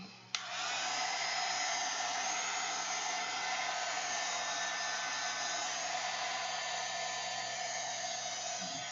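A handheld dryer blows steadily on a mixed media collage bag made with napkins and acrylic inks: a loud, continuous whooshing hiss that kicks on with a click and runs unbroken.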